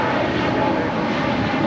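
A jet airliner roars through its takeoff from runway 25 Right at Los Angeles International Airport, a loud, steady, broadband engine rumble heard from nearby with no voices.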